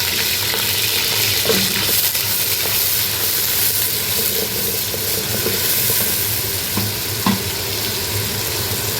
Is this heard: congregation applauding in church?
no